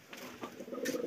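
Soft pigeon coos close by, a few low rounded calls over a quiet background, with a brief higher chirp near the end.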